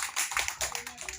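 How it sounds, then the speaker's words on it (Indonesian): Audience applauding for an event committee at a meeting, a brief burst of dense clapping from a nearby crowd. "Tepuk tangan dulu buat panitia Pak."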